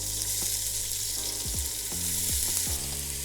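Onions sizzle in rendered bacon fat for Spanish lentils with chorizo, a moderate, steady frying hiss close by, with a few short tonal sweeps passing underneath and no talking.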